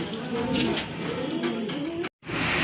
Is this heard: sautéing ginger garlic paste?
no